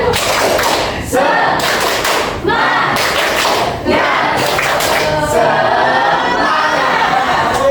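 A school class does a rhythmic clapping chant, with loud, dense bursts of group claps and voices in repeated patterns, close and continuous throughout.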